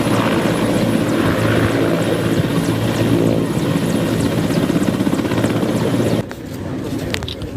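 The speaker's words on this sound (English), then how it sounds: "The slow landing green-spotted helicopter carrying the body of General Elly Tumwine touched down at exactly 8 minutes past 5 p.m." A green-spotted helicopter touches down slowly at a primary school in Lukoma, its loud, steady rotor thump and engine whine filling the scene before dropping abruptly near the end.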